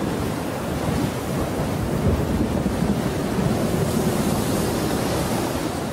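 Steady roaring dry-season wind in Ruaha, Tanzania, sweeping the ground and buffeting continuously, a dense broadband rush that never lets up, loud and close, with no voices.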